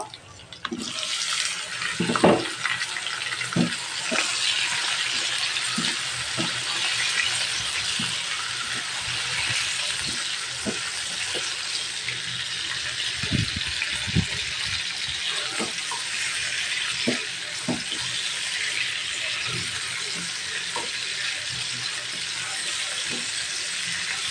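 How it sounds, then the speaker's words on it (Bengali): Chicken pieces go into a pan over already-fried onions for a chicken curry with papaya and potato, giving a loud, steady frying hiss with scattered pops and clatters throughout. "এখন আমি মুরগিটা দিয়ে দিব ভাজার জন্য।"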